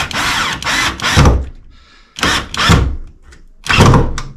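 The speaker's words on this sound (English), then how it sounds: "I'm just gonna put this 1 screw back in from when I initially test fit it" A power drill drives a screw back into wood to mount an electric fireplace, giving several loud whirring bursts separated by short pauses, all close up.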